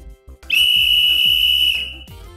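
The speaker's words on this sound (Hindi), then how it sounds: "ये आवाज है सीटी की।" A single loud, shrill whistle blast held steadily for about a second and a half over a soft rhythmic background beat, then cutting off.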